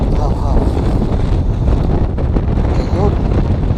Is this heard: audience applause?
no